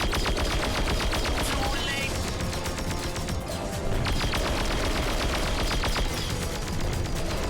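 Rapid bursts of ship weapons fire at pirates in the Darkstar One space combat game, dense repeating volleys that run loud and steady throughout without a break.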